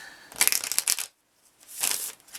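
Tarot cards are shuffled in two crisp riffling bursts separated by a brief pause, close and clear with no talking over them.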